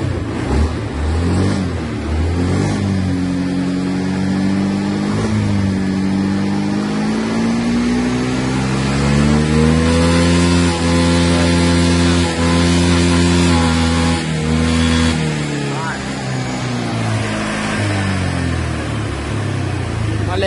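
Motorcycle engine being throttled hard past 10,000 rpm, its loud exhaust rising into a sustained high-pitched howl that climbs and holds before dropping back, close and continuous.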